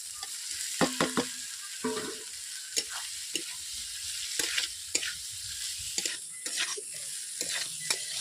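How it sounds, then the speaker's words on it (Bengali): Potatoes tossed with spices in a pan for aloo posto, with a soft steady sizzle under repeated scraping and clattering stirs of a spatula, fairly close and moderate in level. "বন্ধুরা, আলু দেওয়ার পর আমি এইভাবে 5 মিনিট কষিয়ে নিচ্ছি।"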